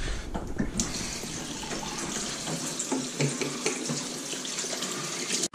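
A kitchen tap running while hands are washed under it, a steady close rush of water with shifting splashes as the hands move, alone and without speech, cutting off abruptly at the end.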